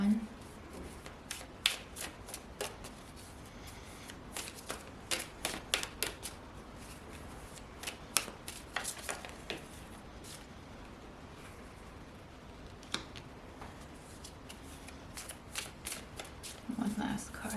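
Tarot cards being shuffled and drawn by hand, with soft, scattered riffles, flicks and card snaps spread across the whole stretch, close and fairly quiet.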